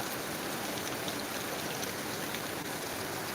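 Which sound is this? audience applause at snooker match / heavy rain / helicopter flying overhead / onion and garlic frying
heavy rain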